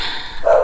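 A single short dog bark, close and fairly loud, heard alone in a brief burst.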